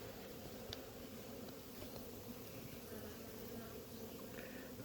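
Honey bees in a small, weakened hive colony being fed syrup buzz in a continuous low drone, a dense hum of many insects close by, steady and fairly quiet with no talking.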